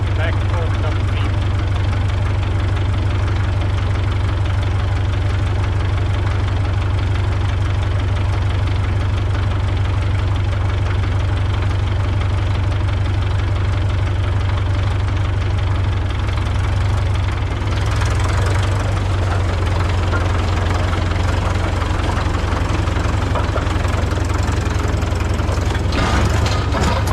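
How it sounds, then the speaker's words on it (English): A 1952 Caterpillar D2 crawler tractor's diesel engine idles loud and close, a steady low knocking throb that holds unchanged before shifting slightly near the end as the machine moves. "Diesel's just turning along like it did before."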